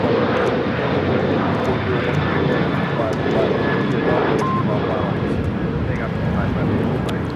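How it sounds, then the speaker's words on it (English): A Southwest Airlines Boeing 737-800 in Illinois One livery takes off from LAX bound for El Paso, its engines a loud, steady broadband roar filling the whole stretch with no break. "3035 taking off to El Paso on the 737-800 in the Illinois 1 livery"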